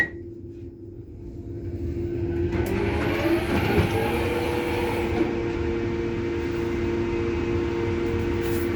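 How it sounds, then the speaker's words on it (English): The air compressor on a Northern Trains Class 331 electric multiple unit starts up at Doncaster station, rising from quiet into a steady, loud mechanical hum with a sustained tone that holds to the end. "That's the compressor turning on."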